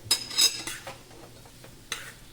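Chutney ingredients being mixed with chaat masala in a bowl, giving a few close clinks and scrapes of a spoon against the dish, with quieter stirring between and one last scrape near the end.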